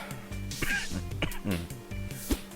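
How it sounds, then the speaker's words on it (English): Several rough coughs and throat-clearing bursts come in quick succession, close to the listener. "the coughing hasn't gone completely away yet"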